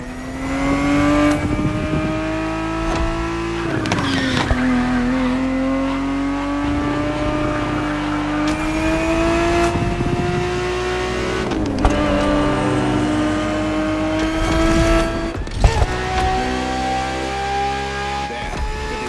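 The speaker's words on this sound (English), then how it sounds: "Is the perfect vehicle for you to experience Ferrari racing as it felt back in the 70s" A 1970s Ferrari race car engine in The Crew Motorfest roars loudly and continuously, its pitch climbing through gears with brief drops at each shift, sustained close-up revving throughout.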